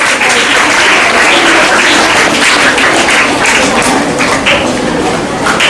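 Loud, sustained clapping from a school audience at an Independence Day prize ceremony, dense and continuous for several seconds with a few voices mixed in.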